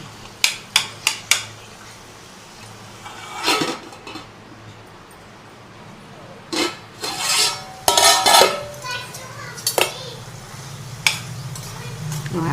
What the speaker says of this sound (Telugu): కలిపేసి మళ్ళీ మూత పెట్టుకుందాం